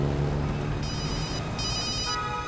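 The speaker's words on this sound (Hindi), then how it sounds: "किसका फोन है सर?" A telephone rings in short electronic bursts over a steady low background hum, with no voices in between.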